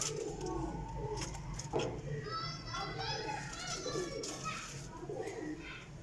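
Kammgar and Sialkoti pigeons coo softly amid a busy, chattering background with children's voices and other birds calling.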